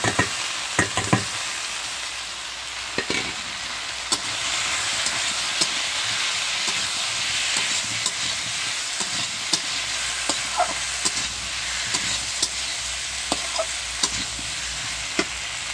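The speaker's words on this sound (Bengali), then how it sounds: "এটা তো আলু আর এঁচোড় দিয়ে কষানো হয়ে গেছে।" Potato and jackfruit curry sautéing in a pan gives a steady, close sizzle and hiss, with sharp clicks and scrapes from stirring scattered throughout and no talking.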